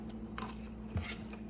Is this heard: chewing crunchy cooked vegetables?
yes